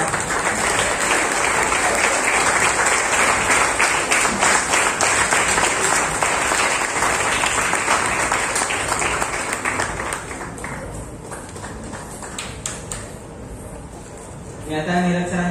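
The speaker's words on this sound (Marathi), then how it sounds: "जोरदार टाळ्या." Loud, sustained audience applause at a felicitation ceremony for Indian table tennis team players at AIMS Academy in Pune, dense clapping that holds steady, then thins and softens toward the end.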